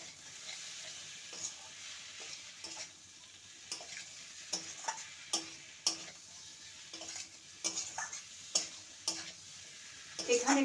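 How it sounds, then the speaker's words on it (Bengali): Fried kundri and potatoes stir-fried with spices in a pan: a soft continuous sizzle beneath repeated scraping and clinking of a spatula against the pan, close and fairly quiet. "মশলার সাথে সবজিকে ভালো করে নেড়ে নেব।"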